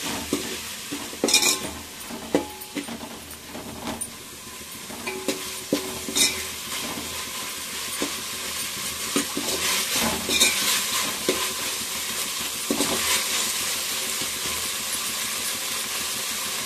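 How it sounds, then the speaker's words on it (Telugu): Curry leaves, coriander and spices fry in a pan for bagara rice. A continuous sizzle runs throughout, punctuated by scattered clinks and scrapes of stirring, with no voices. "కరివేపాకు, ఇదంతా మనం ఫ్రై చేసుకోవాలి."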